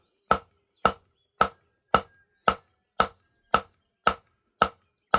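A hammer strikes metal on an anvil in a regular, evenly spaced series of about ten sharp ringing blows, close and clear with no other sounds during forging practice.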